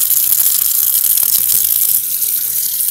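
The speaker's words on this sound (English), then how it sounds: "So I'll go ahead and start running some water." Tap water runs steadily into a sink as a metal-bristled brush coated in primer is rinsed, a loud continuous hiss and splash close by with no talking.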